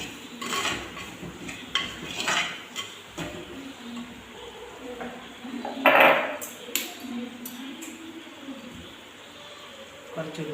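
Salt and curry leaves being mixed in a bowl, with clinking and scraping of utensil against dish in irregular bursts, one louder clatter midway, under a faint background of room noise.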